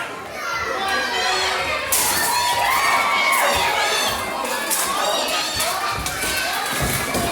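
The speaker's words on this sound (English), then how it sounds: "cheer him on" A crowd of children and adults cheers and shouts loudly at a live armored combat demonstration at a museum, excited high voices overlapping continuously, with occasional thuds from the fight.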